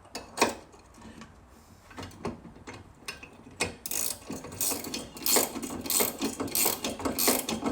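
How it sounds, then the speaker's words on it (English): An 11/16 ratchet wrench snugs LED pod light mounting bolts, giving bursts of close, dry clicking that start sparse and become a busier, steady ratcheting run. "It does make it a little bit easier to use a 11/16 ratchet wrench on this particular step."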